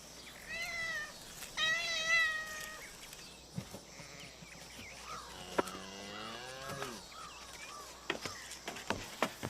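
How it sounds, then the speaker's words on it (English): A cat meows repeatedly, several drawn-out calls with pauses between them, heard fairly close against a quiet background with faint knocks and rustles. "Cat'll be good. In the barn for mice."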